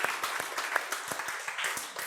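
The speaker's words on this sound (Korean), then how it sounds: "박수 한번 쳐주세요" A church congregation applauds during a Sunday worship service, a steady patter of many hands clapping at close range for about two seconds, with no talking over it.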